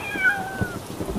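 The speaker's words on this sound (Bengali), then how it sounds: "বিড়ালটা ডেকে উঠলো।" A cartoon cat gives a single clear, drawn-out meow that falls in pitch, heard alone over a faint background.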